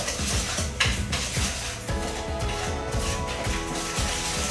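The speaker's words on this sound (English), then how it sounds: "What we're going to do is going to mix all that up together." Whisk stirring cocoa and brown sugar into banana brownie batter in a bowl, a steady rhythmic scraping and clinking that runs continuously at close range, with music underneath.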